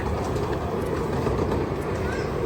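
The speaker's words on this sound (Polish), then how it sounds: "pędzę, lecę, bo słyszę pociąg" A steady, loud rumble of a train rolling past nearby at Rudyard Lake, a continuous dense roar with faint rattling and no clear gaps.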